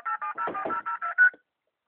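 A phone number being keyed in to return a call to a doctor's office: eight short DTMF touch-tone beeps in quick, fairly even succession, clear and close, with no talking.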